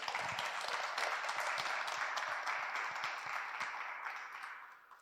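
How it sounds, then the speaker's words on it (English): Sustained applause from a live audience welcoming a guest onto a stage at a talk event in Germany, dense steady clapping that holds and then gradually fades toward the end. "Big round of applause for Prasanna."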